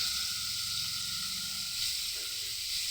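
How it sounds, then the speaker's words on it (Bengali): Vegetables for a veg biryani made without onion or garlic fry in a pan, giving a steady close hiss and sizzle that holds evenly throughout with no talk. "এখন এগুলো ভেজে নিয়ে নেব।"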